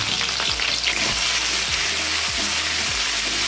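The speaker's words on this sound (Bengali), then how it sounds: "লঙ্কা আর আদাটা ভাজা ভাজা হয়েছে" Chopped ginger and green chilli sizzle in a little hot oil in a pan, a loud, close, continuous crackle with a few scraping stirs, no voices.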